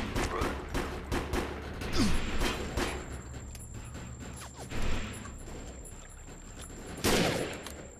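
Pistol fire in the video game Defiance, heard as a string of sharp, fairly quiet shots over a layer of game effects. A few louder impacts stand out here and there.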